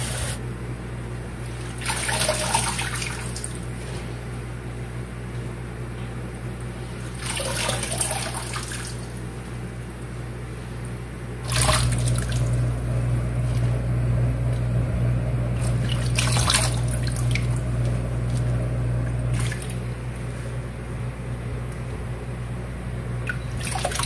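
Bean sprouts are washed in water in a continuous close splashing and running-water wash, with bursts of sloshing and a louder stream from about the midpoint.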